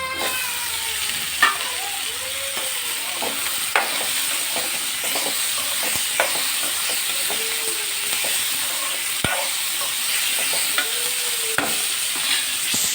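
Pre-heated cauliflower for a Telugu masala curry fries in a hot pan with a loud, continuous hissing sizzle, punctuated by occasional scrapes and taps of a stirring spoon, close and without talk.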